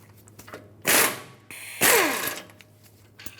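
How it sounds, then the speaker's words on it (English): Ratchet with a 21mm socket loosening caliper bracket bolts on the rear axle of a 2003-2009 Dodge Ram 2500, two sharp bursts of loud metallic clicking close by, separated by quieter pauses. "With a 21mm socket, remove the 2 bolts that hold the caliper and bracket assembly onto the rear axle."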